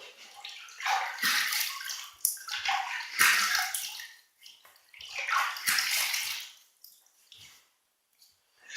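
Water splashing and sloshing in bursts as a man wets his face at a sink before a wet shave, several separate handfuls with short quiet gaps between them, close up, no talking.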